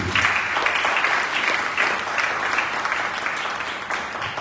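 A church congregation applauding during a French-language worship service, steady sustained clapping from many hands filling the room without pause.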